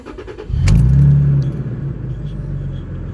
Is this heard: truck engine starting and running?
yes